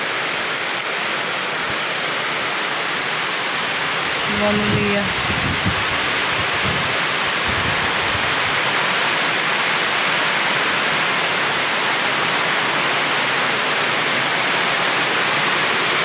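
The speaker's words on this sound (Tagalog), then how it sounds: "bigla lang kasing umuulan" Sudden rain pours down steadily outdoors, a constant loud hiss of falling water throughout, with brief speech and a few knocks partway through.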